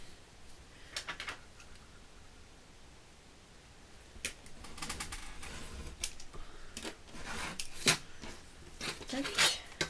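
Scissors cutting paper into a small rectangle for a handmade birth card, a series of close crisp snips and rustles growing busier toward the end, with faint quiet movement in between.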